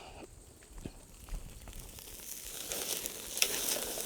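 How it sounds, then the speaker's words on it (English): A steak sears in a hot pan basted with butter and bone marrow, giving a steady close sizzle with faint crackles and a brief clatter, building slightly louder toward the end. "There's that sear."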